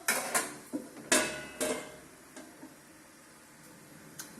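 Metal tongs clink against a pan while turning torzella greens cooked with garlic, oil and cherry tomatoes, a few sharp close taps and clatters, then a lid set down, followed by quieter faint ticks.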